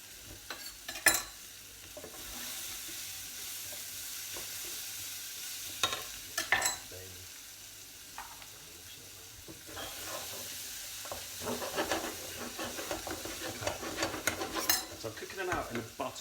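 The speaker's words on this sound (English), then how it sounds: "So I'm cooking them out in the butter and the oil." Vegetables frying in butter and oil for a vegetable and lentil soup, a steady close sizzle with intermittent clinks and scrapes of stirring in the pan, no talk.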